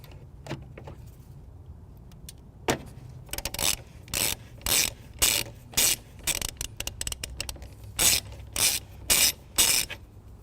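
A ratchet loosens the positive battery terminal nut on a 2017 Dodge Journey, sounding as a series of close, sharp clicking bursts, sparse at first and then quick and regular, with brief quiet gaps between strokes.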